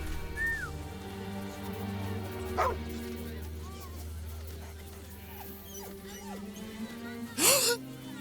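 A courier company's dog in the video game Baldur's Gate 3 barks and yips in a few sharp bursts over a steady low ambient hum, with a whimpering tone between barks and a louder final yelp.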